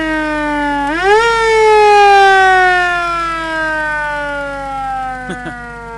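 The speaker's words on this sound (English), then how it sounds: "Hit the siren for you one time." Siren on a 1949 Chevrolet Barnette hearse, one loud wail that sweeps up sharply, holds and slowly winds down over several seconds, close and alone, with a couple of faint knocks at the end.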